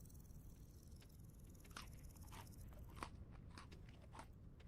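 A character chewing a tiny piece of flax grain in a survival video game, heard as soft, close crunching and biting bursts repeating over a low background rumble, with no talk.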